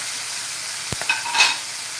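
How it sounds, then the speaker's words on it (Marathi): Vegetables for masale bhaat are sautéed and stirred in a pan, with a soft steady sizzle and a couple of brief scraping strokes of a spoon partway through, close and fairly quiet. "या भाज्या चांगल्या आपल्याला परतून घ्यायच्या आहे त्यानंतर याच्यामध्ये आपण सर्व मसाले घालूया"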